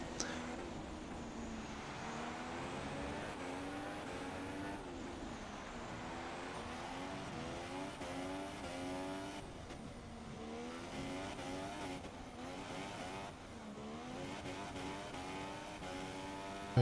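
Sauber Formula 1 cars battle in a racing video game, their engines whining and shifting pitch steadily as they rev and pass, heard faintly and continuously for the whole stretch.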